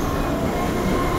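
A train in Half-Life 2 passes close by with a loud, dense rumble and rattling wheels, filling the brief moment with no voices.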